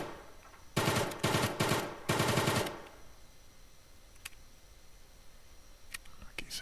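Bursts of automatic gunfire in the game Escape from Tarkov, four rapid loud volleys in quick succession, then a few faint distant single shots against quiet ambience.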